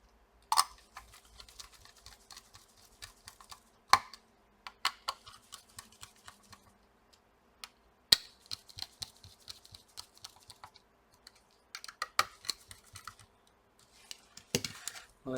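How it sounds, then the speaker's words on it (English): Small screws being tightened into a Lenovo G50-80 laptop case during reassembly: sparse, close clicks and light plastic taps scattered irregularly across a quiet background. "Tight all the screws."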